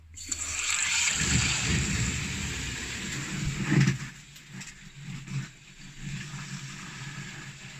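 Water rushing through pool solar absorber panels after refilling, a steady close gushing and trickling flow that swells, surges briefly, then settles into a softer, fluctuating stream.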